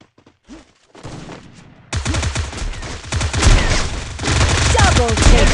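Gunfire from an AWM sniper and other weapons in a PUBG-style video game: a few sparse shots open, then dense loud bursts of rapid firing take over and continue to the end.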